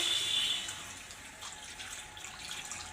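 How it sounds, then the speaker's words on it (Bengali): Water is poured into a cooking pan holding garlic slices, turmeric and salt, a soft, faint splashing trickle that is strongest at the start and then tapers off. "আর একটু পানি দিয়ে দেবো।"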